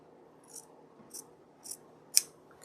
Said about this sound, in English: now I am going to just cut this with an approximate 1/4 of an inch seam